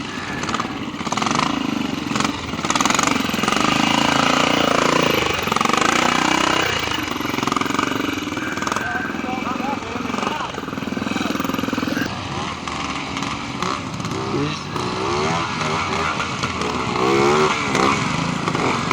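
A BSA trials motorcycle ridden through a section at a clubman event, its engine revving and popping loudly and continuously, rising and falling with throttle, with faint voices in the background.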